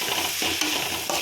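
Boiled peas with ginger garlic paste sizzle in a hot pan for palak masala chitranna, a brief burst of steady frying hiss broken by a couple of quick stirring scrapes.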